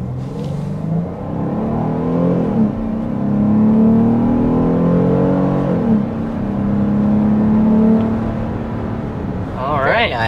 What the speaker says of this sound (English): we're going to go ahead and start with a hard acceleration to see what this Carnival is all about